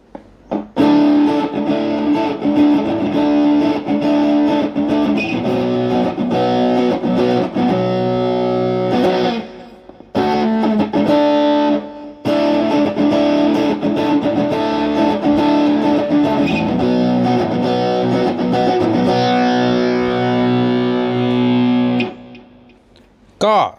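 An Enya Inspire smart electric guitar played through heavy high-gain distortion, thick sustained chords ringing loud and close with a couple of brief pauses between phrases.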